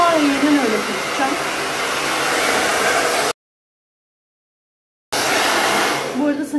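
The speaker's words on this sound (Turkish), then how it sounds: "Ben normal nasıl kurutuyorsam aynen öyle kuruteceğim." A hair dryer blows loudly and steadily at close range while hair is dried Brazilian-blowout style. The airflow cuts out completely for a couple of seconds, then resumes at the same strong roar.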